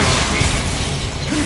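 Bombardo blasting spell in Hogwarts Legacy, a loud, dense burst of blast noise lasting about a second and a half, close and full, with no talk over it.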